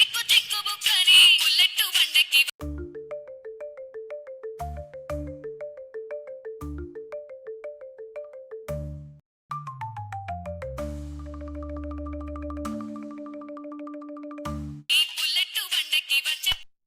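A mobile phone ringtone plays a repeating electronic melody loudly for over ten seconds, with brief voices talking just before it starts and after it stops.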